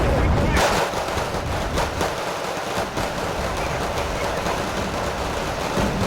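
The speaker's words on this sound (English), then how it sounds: "Here come the bombers." Bombers strike in the Wargame: Red Dragon video game, with a loud, dense roar of explosions and rumbling gunfire filling the whole stretch steadily and close.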